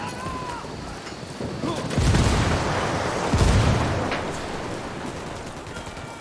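A frag grenade bursts in Ghost Recon Wildlands amid gunfire, with two heavy low booms about a second and a half apart over a constant bed of distant shooting and ambient battle noise.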